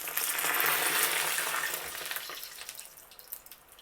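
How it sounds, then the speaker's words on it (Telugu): Plain jantikalu dough, prepared as a Janmashtami snack, frying in hot oil over a medium flame: a loud, dense sizzling hiss that is strongest at the start and slowly eases, with small crackles and pops toward the end. "ఇప్పుడు మనం జంతికలు ఇందులో పిండుకుందాం"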